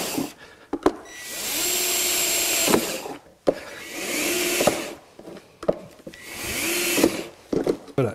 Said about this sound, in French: il faut maintenant dégager l'évacuation du caniveau et pour ça je fais une succession de trous